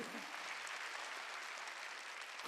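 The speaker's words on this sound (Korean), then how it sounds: "박수 치라" Steady, continuous applause from a church congregation during a worship service, faint and even throughout before cutting off abruptly at the end.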